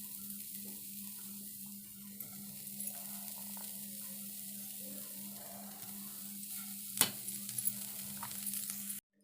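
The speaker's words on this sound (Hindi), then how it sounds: "अब मैं इसमें खोया डाल दूँगी।" Khoya going into a hot pan and being stirred, with a steady sizzle and scraping stir strokes throughout, plus a sharp clink near the end; no one speaks.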